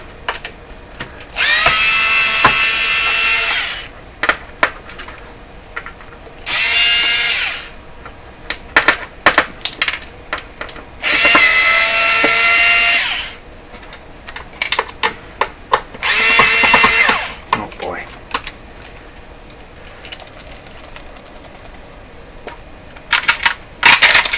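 A power drill backs screws out of an Electrohome CS400P stereo in four loud, sustained whirring bursts. Sharp clicks and rattles of loose screws and parts fill the gaps between them.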